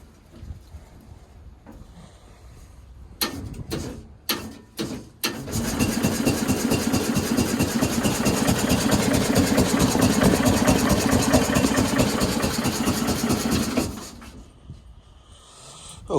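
A 1969 Bolens FMC Husky 1053 tractor engine gives a few sharp cranking bursts on a cold start, then catches and runs at a loud, steady, close chug for several seconds before cutting off.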